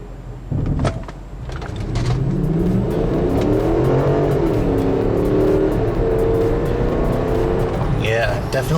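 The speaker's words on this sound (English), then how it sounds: "let me show you guys another quick acceleration run. This time I have it in sport mode" A 2004 Volkswagen Touareg V8 SUV in sport mode accelerates hard from inside the cabin, the engine note climbing steadily and holding the gear long, a loud continuous drone that rises and falls through upshifts.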